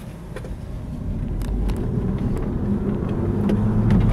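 A 2018 BMW i3s electric car pulling away, with a steady low road rumble and wind noise building slightly as it accelerates, no engine note.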